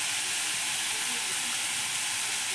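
Masala roasting in a hot pan for masala dosa, after salt and turmeric are stirred in, gives a steady, soft sizzling hiss that carries evenly throughout, close and fairly quiet.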